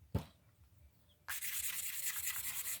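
Worn sandpaper rubs on stone such as carnelian or smoky quartz, a soft thud followed by a short quiet spell, then a steady, close scratchy back-and-forth sanding.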